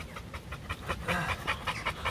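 An American Bully XXL dog pants in quick, rhythmic breaths, about a dozen short huffs close by, soft and without voices.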